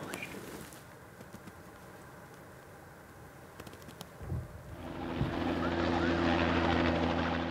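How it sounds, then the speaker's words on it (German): Helicopter rounding up a herd of reindeer in northern Scandinavia, its rotor drone swelling in from a distance and becoming a steady, fairly loud hum after faint ambient sounds. "Der Helikopter treibt sie zusammen."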